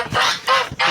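Goslings honk in three short, close, loud calls separated by brief gaps.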